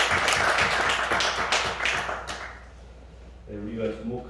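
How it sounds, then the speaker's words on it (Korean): Church congregation clapping in a quick, rhythmic patter that fills the room for about two seconds, then thins and fades before a voice speaks. "박수로 하나님께 영광 드리겠습니다."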